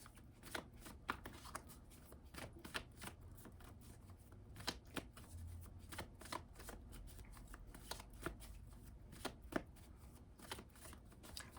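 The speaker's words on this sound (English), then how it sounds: "Oops, I'm shuffling backwards." Tarot cards are shuffled by hand in a quiet room, a steady run of soft, crisp riffling clicks repeating over several seconds, faint and close, with no talk over them.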